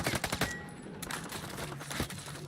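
Rapid bursts of automatic gunfire from a video game gun with heavy recoil, loud and close, firing in quick clusters with brief pauses between.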